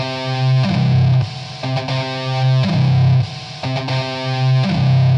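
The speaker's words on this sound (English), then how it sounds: "So we can strum a seventh chord, a major chord, or a power chord." Distorted electric-guitar-style chords from Steinberg's Artefakt Guitar plugin, strummed in a repeating pattern, seventh, major and power chords each ringing loudly for about a second before the next strum, with no voices.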